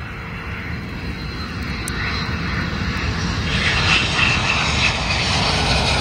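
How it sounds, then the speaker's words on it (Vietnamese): A fixed-wing airplane descending to land over England, its broad engine roar steady and building slightly louder toward the end, heard from outdoors with no talk. "Đó, máy bay cũng chuẩn bị đang xuống nữa."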